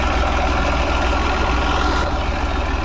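An Eicher 380 tractor fitted with a Massey-type Simpson diesel engine idles steadily nearby, a loud, even low rumble with a constant rhythmic chug throughout and no talk.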